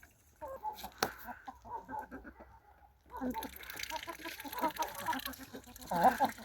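White crested hens cluck in a farmyard, soft repeated clucks and murmurs close by with a brief sharp knock early on, growing busier and louder in the second half.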